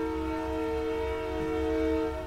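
A train sounds its horn at a distance, a sustained multi-tone blast held steadily over a low rumble, with no talking.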